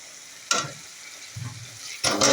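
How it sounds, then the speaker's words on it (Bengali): Chopped tomato fries gently on low heat in a quiet pan, with a soft background sizzle and two short louder bursts as the pieces are stirred. "টমেটো কুচি দিয়ে দিলাম, গ্যাসটা আঁচটা কমিয়ে দিলাম, আঁচটা কমিয়ে দিয়ে একটু ভেজে ভেজে নিতে হবে।"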